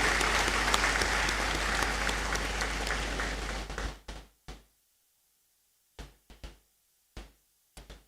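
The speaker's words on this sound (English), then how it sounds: "May we continue clapping for Janice as she resumes her seat." Audience applause fills a university graduation ceremony in a great hall, a dense, steady clapping that fades out after about four seconds, leaving scattered knocks and thumps in near silence.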